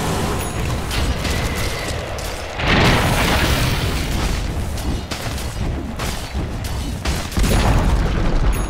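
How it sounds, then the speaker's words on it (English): Tower being destroyed in a Dota 2 match: loud booming explosions and crumbling, burst-like impacts over continuous battle noise, with heavier surges partway through and near the end. "Dire's middle tower has fallen."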